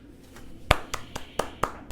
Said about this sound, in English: I don't really give hand claps a lot, but I definitely would for that one.